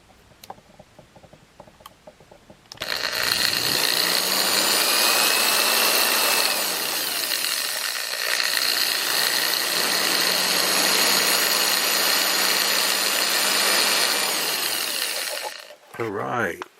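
A power drill boring a hole in plastic, starting after a few quiet seconds and running loud and steady for about thirteen seconds with a whirring pitch that sags and recovers, then stopping abruptly; talk is heard at the edges.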